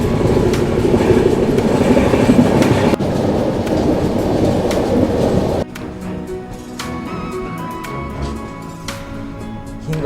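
The Rani Chennamma Express rumbles along, heard from a first-class AC coupe as it overtakes the Jodhpur Express. A loud, continuous roar with rhythmic rail clatter suddenly drops to a quieter, clicking run partway through.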